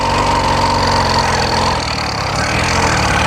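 Small petrol engine fitted to a motorized bicycle runs loud and near, a continuous rattling buzz that dips slightly midway, then carries on.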